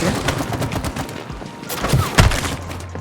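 Weapons fire at enemies in the co-op video game It Takes Two as dense, rapid bursts of shots, with one heavier blast near the end.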